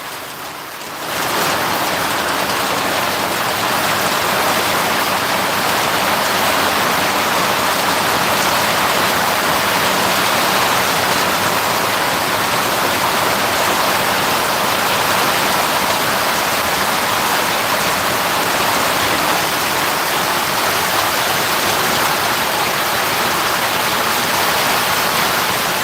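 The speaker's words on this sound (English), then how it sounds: "rain is crazy." Heavy rain pounds a boat's bimini canopy in a loud, continuous roaring hiss that fills the whole clip, with no voices.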